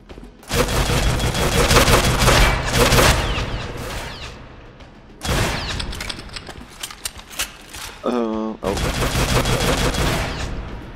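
Rapid, loud shotgun blasts from the game Maximum Action crack out in dense bursts, broken by a short pause and a brief reloading clatter before more heavy firing resumes.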